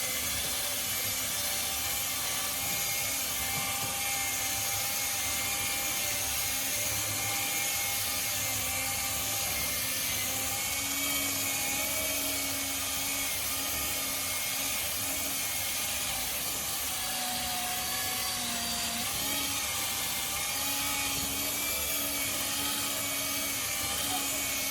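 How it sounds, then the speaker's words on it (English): A cordless polishing machine with a small adapter buffs polish on an Audi's paint, giving a steady whirring drone with a faint high whine that holds evenly throughout at moderate level. "For this I'm using a cordless machine, small little adapter, apply a little bit of polish"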